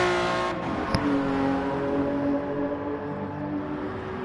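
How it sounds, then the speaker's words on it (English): A Ferrari race car engine roars steadily through a race, a sustained high-pitched drone with one brief sharp click, loud and close with no voices. "The speed of that Ferrari was just too much to handle for everybody else."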